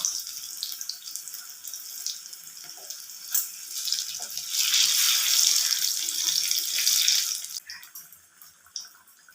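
Chilli bajji, batter-coated green chillies deep-frying in hot oil thattukada style, give a bright, steady sizzle that swells louder through the middle before easing off, with a few sharper crackles.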